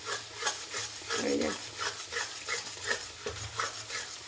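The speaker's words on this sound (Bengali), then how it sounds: "মশলাটাকে এইভাবে কষিয়ে নিচ্ছি" Spice masala with cumin powder, meat masala and crushed cardamom is sautéed and stirred in a pan, a soft sizzle under rhythmic stirring scrapes, with a dog barking faintly once in the background.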